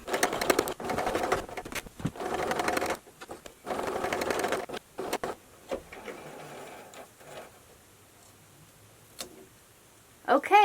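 A sewing machine stitches an upcycled jeans purse in bursts of fast, steady mechanical whirring, with short pauses and softer handling noises between runs.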